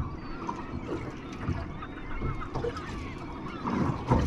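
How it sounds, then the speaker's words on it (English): Seabirds call in a loose flock around a small fishing boat at sea off the UK, honking, gull-like cries rising intermittently over steady wind and water noise, moderately distant. "All them birds, you can probably hear them as well."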